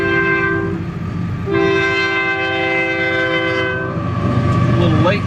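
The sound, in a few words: train blowing its horn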